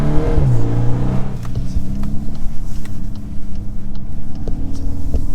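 A VW Golf 8R Performance pulls away on a test drive with the window open, its engine note climbing sharply before settling into a loud, rough road roar.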